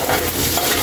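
Ginger and garlic sauté in a pan, giving a loud, close, continuous sizzle with faint stirring over less than a second.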